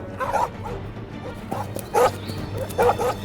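Dogs in a village bark and yip after spotting a fox, several sharp barks in short bursts over a steady low background hum, fairly close and clear.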